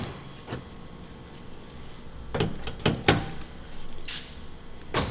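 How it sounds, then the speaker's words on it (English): A Mazda Miata door shuts and locks through a newly installed keyless entry system, giving a quiet scatter of sharp clicks and mechanical thumps in a mostly still setting. "Close the door, go ahead and lock it."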